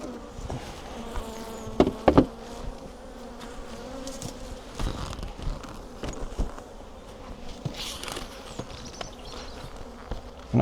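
Honeybees buzz steadily around an open hive during an inspection, a close, continuous insect drone with a few sharp knocks and clatters from hive handling.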